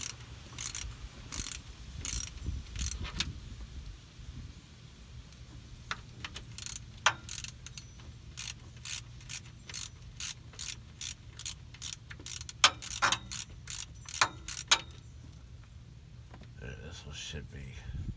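Ratchet loosening the transmission pan bolts on a Ford C6, with repeated bursts of quick metallic clicking in short strokes, close by, and a voice talking in between.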